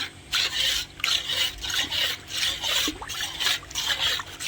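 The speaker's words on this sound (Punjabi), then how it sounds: "ਹੁਣ ਆਪਾਂ ਇਹਨੂੰ ਚੰਗੀ ਤਰ੍ਹਾਂ ਮਿਕਸ ਕਰ ਲਾਂਗੇ ਜੀ" A hand stirs laundry detergent solution for very dirty white clothes, making rhythmic wet swishing and rubbing strokes, close and fairly loud, about two strokes per second.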